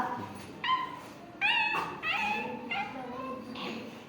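A voice imitates a puppy's whimpering when hit, with a series of high, thin whines and yelps rising and falling in short bursts.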